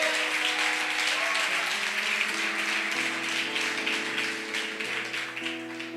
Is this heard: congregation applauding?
yes